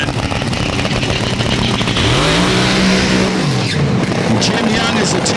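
Deafening roar of nostalgia front-engine fuel dragsters in a drag racing final at the Northern Nationals, a constant harsh engine blast with a rising and falling pitch sweep, an announcer talking over it.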